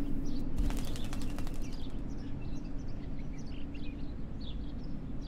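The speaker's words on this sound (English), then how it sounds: "Oh, the crow from before." A crow in the video game Martha Is Dead beats its wings in a quick flurry early on over a steady ambient hum, followed by faint chirps and distant bird calls, with no talking.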